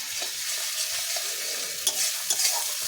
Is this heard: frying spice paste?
yes